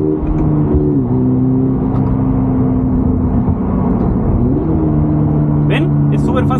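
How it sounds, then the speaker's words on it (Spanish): A Subaru car engine drones under a heel-toe downshift, with revs dipping and rising in short swells beneath steady loud road and cabin noise. "al apretar el embrague las revoluciones se suben solas"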